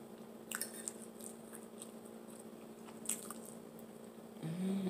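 Someone eats cold turkey rice close to the mic, with soft, wet chewing and squishy bites repeating through a quiet room.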